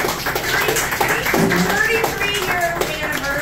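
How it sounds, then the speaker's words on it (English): An audience gives scattered, moderately close applause for Jim and Carol on their 33rd wedding anniversary, uneven handclaps running through the whole stretch with voices and chatter mixed in. "Let's give them a round of applause"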